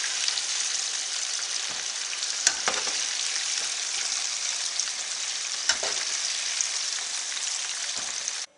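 Chicken fritters for General Tao chicken sizzle and crackle steadily in hot oil in a wok, a close, continuous hiss with a few sharp pops and clinks.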